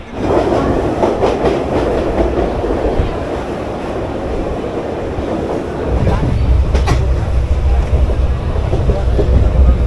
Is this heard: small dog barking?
no